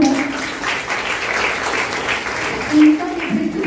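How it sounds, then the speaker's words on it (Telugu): An audience at a school education-week event applauds a district top-scoring student, a sustained round of clapping lasting several seconds with a voice speaking over it near the end. "ఒకసారి ప్లీజ్ క్లాప్ ఫర్ హర్."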